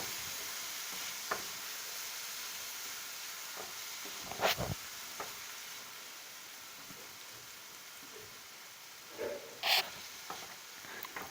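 Ground beef spaghetti sauce sizzling steadily in a pan as it is stirred, with a few brief scraping knocks of the utensil against the pan.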